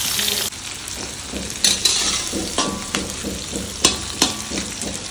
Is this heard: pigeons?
no